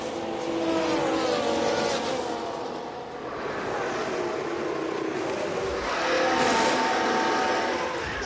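Formula 1 cars in F1 Manager 24 at Sakhir, engines whining steadily as they enter the pit lane, a sustained loud drone that dips briefly then swells again as cars pass close by.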